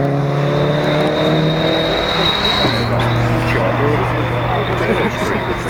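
A supercharged 16-valve 2.0-litre Mk1 Golf GTI engine runs cold with a steady harmonic drone, its pitch dipping slightly partway through and a faint high whine above, while people talk over it.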